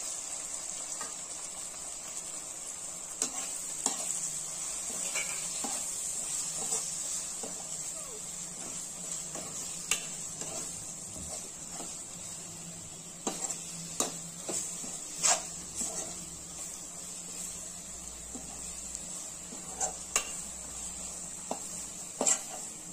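Homemade ground masala and tomato frying for an adamant creeper curry give a faint continuous sizzle. Sharp spoon taps and scrapes are scattered throughout, with a steady high hiss and occasional brief background voices.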